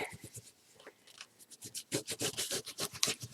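A paper page from a mini album is given a rough rub-down, heard as close, dry rubbing strokes, sparse and soft at first, then a fast, rhythmic series of firmer scrubbing passes.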